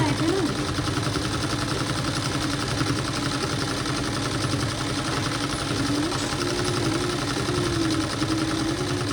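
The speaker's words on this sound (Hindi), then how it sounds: "और इस तरह से मैं इसके अंदर पूरे के अंदर सिलाई लगा लूँगी।" A sewing machine stitches a lehenga in a steady, continuous whirring run with a fast mechanical chatter, close and loud throughout, while someone talks over it.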